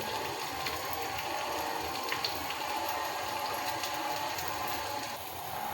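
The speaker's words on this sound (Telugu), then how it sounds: "కొంచెం వాటర్ పోసుకోవాలి" Water poured into a cooking pot of simmering potato and tomato curry, a steady splashing gush that runs evenly and fairly near for several seconds, with no talking.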